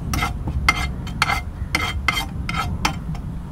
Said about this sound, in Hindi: ये भुनने लगा